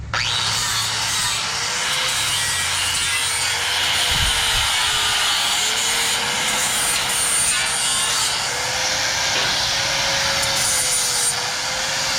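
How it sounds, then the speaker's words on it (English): An angle grinder with a flap disc grinds steel for a cheap trailer build, producing a continuous loud, close abrasive whine with a steady hissing roar and slight shifts in pitch as the disc works the metal. "I run 2 grinders. You don't have to have 2."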